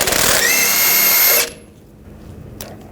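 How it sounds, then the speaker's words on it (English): Power tool, likely an impact gun with a 24 mm socket, spinning off a jam nut on the steering rack of a 2009-2017 Volkswagen Tiguan. A loud, close, steady whir for about a second and a half, then it stops and a brief clink follows. "Take this jam nut off."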